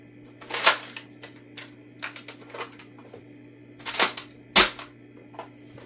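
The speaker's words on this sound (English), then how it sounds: "You have to pull back the slide, then put in your mag" Nerf Mega Centurion blaster being handled up close, with a run of sharp plastic clicks and clacks as the slide is pulled back, a magazine is seated and the slide is snapped shut, the loudest snaps coming near the end.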